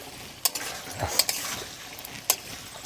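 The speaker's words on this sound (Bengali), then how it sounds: "মাছগুলো মশলার মধ্যে দিয়ে দিচ্ছি ভালো করে একটু নেড়ে চেড়ে নেব" Snakehead fish pieces stirred into spice paste in a pan for a Bengali dish, with quiet sizzling and a few sharp utensil clinks and scrapes against the pan, close and fairly soft.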